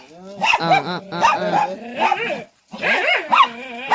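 Two pet dogs at home give a run of loud, close yelping barks and whiny yips in uneven bursts, broken by one short pause.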